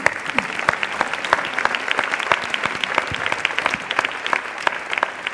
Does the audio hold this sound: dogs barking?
no